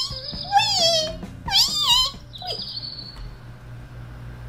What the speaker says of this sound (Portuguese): Barulho de passarinho cantando?